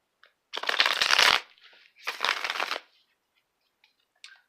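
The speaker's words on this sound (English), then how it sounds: "Wait, let me shuffle first. I need to shuffle these cards" Two quick bursts of tarot cards being riffle-shuffled, close and crisp, separated by a short pause, with faint taps afterward.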